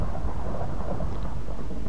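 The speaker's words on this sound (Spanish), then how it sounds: "Están cayendo rayos. Eso quiere decir que está lloviendo." Thunder and rain in Minecraft, a dense, loud, continuous rumble and rush of rainfall filling the whole stretch without pause.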